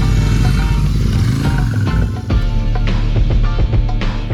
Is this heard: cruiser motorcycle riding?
yes